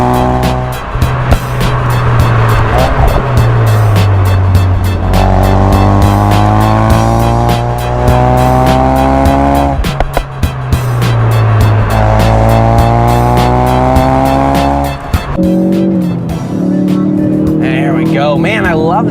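Hot hatch driven hard on a race track, engine loud and close as it climbs through repeated gear upshifts, with tire squeal toward the end and someone talking over it.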